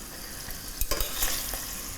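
Frozen vegetables with tofu fry in a pan and are stirred, making a close, steady sizzle broken by a couple of sharp scraping strokes from the spoon, with no talk.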